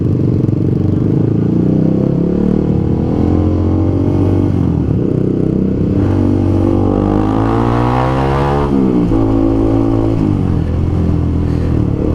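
Honda CBR 150R K45R motorcycle engine running steadily at close range, with loud continuous revving that climbs in pitch around the middle and drops back, no talk over it.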